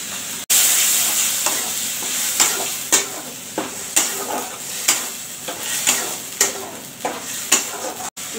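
A paste of ginger, tomato, onion, garlic and cumin fries in a pan, a steady close sizzle with regular scraping strokes of a spoon stirring it at about one per second.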